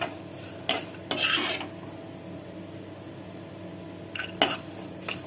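A spoon scrapes and stirs cashews and mung dal dry-roasting in a pan, with a few quick scraping strokes and a soft clink against the metal over a low, steady background hiss.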